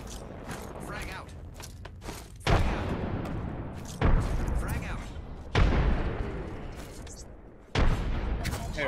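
Explosions and heavy gunfire in a multiplayer shooter game, with a frag grenade among them. Several loud broadband blasts land about every one and a half seconds over continuous firing, and players talk over the action.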